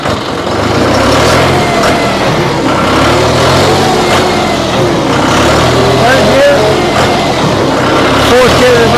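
A 2012 John Deere 5055D tractor's diesel engine runs steadily while the tractor is shifted into reverse, a loud continuous drone with a low rumble close by, and someone talks over it.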